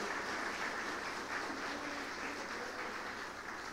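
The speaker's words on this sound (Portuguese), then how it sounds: "Você pode aplaudir o Senhor por isso" A congregation claps together at a church service, a steady wash of hands sustained at moderate level throughout, with faint low voices beneath.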